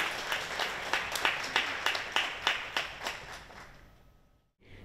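Audience applause at a Japanese award ceremony, steady clapping that peaks in several swells, then fades out and stops near the end.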